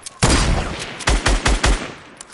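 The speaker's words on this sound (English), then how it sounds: "I'm shooting at your wall" Rapid video game gunfire aimed at a wall, a sharp initial shot followed by a pause and then a quick burst of four close, punchy shots, loud and upfront.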